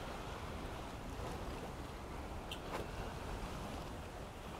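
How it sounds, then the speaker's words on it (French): Steady wind and ocean surf in the video game Fountain of Youth form a continuous broadband roar with no breaks, fairly faint and without voices. "Oh là, il y a du vent par ici."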